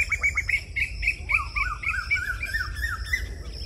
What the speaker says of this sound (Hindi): कोयल की आवाज सुनो